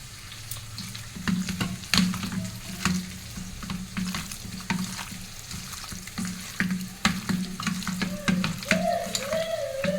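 Masala spices for chicken curry sizzle and fry in a pan, with steady close crackling and repeated stirring scrapes throughout, plus a brief higher whistle-like tone near the end.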